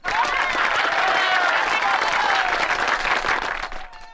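An audience claps in a Kannada film scene, a dense burst of applause that holds steady for about four seconds before fading out.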